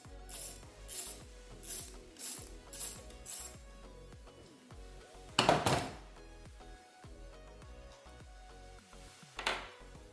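Ratchet clicking in quick bursts while loosening a 10mm bolt on a 2020-2026 Chevy Blazer 2.0L (LSY), near and crisp, followed by a couple of louder metallic clanks with short pauses between.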